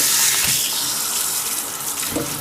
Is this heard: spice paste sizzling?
no